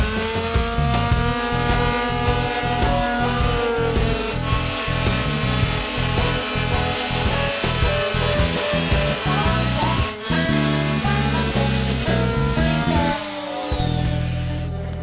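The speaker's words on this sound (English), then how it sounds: "So on here we actually have a 40 grit sandpaper." Palm sander fitted with 40 grit sandpaper roughing up wood, a steady loud buzzing grind running continuously with brief dips as the sander shifts across the surface.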